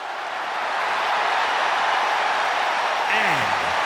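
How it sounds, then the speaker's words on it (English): Arena crowd noise in the WWE 2K26 wrestling game, a broad steady roar of cheering that swells slightly and holds, with a brief tonal sweep near the end. "The crowd on their feet."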